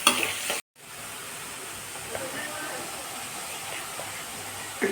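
Lemon pickle mixture sizzles steadily as it is stirred and fried in a pan, a continuous close crackle with faint scraping that briefly cuts out near the start.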